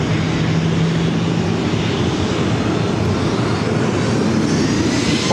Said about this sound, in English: 737-800 taking off to Calgary.